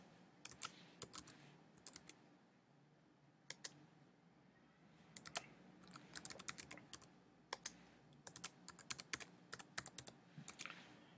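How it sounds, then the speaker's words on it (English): Keys clatter on a computer keyboard while data is entered into an Excel spreadsheet: quiet, close clicks in uneven bursts with short pauses, the pace quickening toward the end, no voices. "we're going to also type in the next info, which is first quarter forecast"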